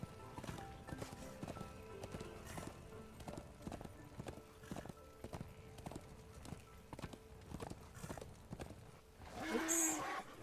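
A horse gallops in the video game Darksiders 2 with steady, rhythmic clip-clop hoofbeats up close. A short whinny-like cry comes near the end.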